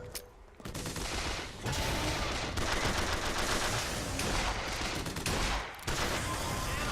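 Rapid, loud bursts of volley gun and hand cannon fire in Bioshock Infinite on 1999 mode, dense overlapping blasts and explosions with brief gaps, close and continuous across the scene.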